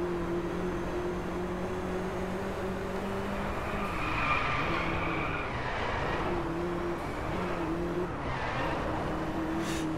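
Volkswagen Golf race cars driving in the Driveclub racing game, a steady loud engine drone with shifting pitch as the cars accelerate and brake, continuous throughout.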